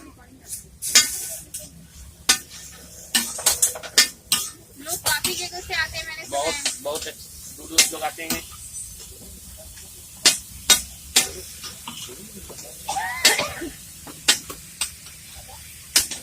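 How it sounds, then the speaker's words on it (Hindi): Sizzling and scraping from a hot pan as a veg burger fries in butter at a street food stall, with clinks of a utensil stirring, while people talk over it. "ये बर्गर है, इसे हम मक्खन में भी फ्राई करेंगे"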